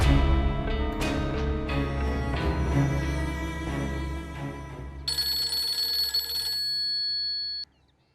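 A telephone rings with a steady bright electronic tone, rising over murky background music and holding for a few seconds before stopping abruptly.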